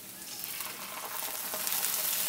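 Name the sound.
onion and ginger paste frying in oil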